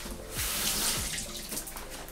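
Tap water runs steadily as a pepper is washed under it in a home kitchen sink, a continuous close hiss and splash with no talking.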